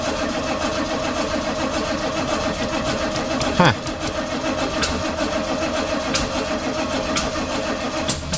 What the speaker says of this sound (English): It's just turning over.